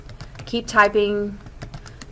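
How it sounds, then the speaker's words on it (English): Someone types on a computer keyboard in a short run of quick clicks while a person talks over the keystrokes. "they start typing their list like this, and then they keep typing their"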